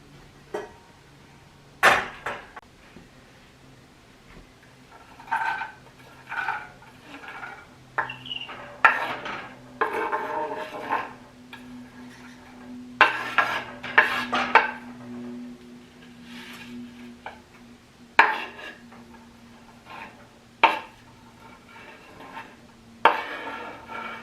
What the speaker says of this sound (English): Put it in the pan, let that cook down for about 5 minutes, stirring throughout